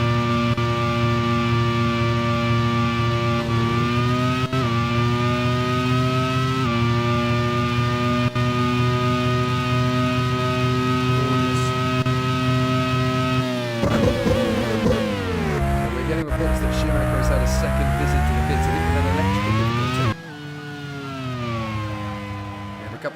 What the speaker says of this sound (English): Let's have a listen in the first part of this lap to that engine noise.